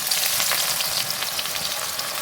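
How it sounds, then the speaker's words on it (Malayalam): Five onions frying for chicken biryani masala in oil already used to fry chicken make a loud, close, steady sizzle with a constant hiss and no voices. "ചിക്കൻ വറുത്ത എണ്ണയിലേക്ക് തന്നെ ഞാൻ ഈ മസാലയ്ക്ക് വേണ്ടിയിട്ടുള്ള സവാള വറുത്തെടുക്കാൻ വേണം."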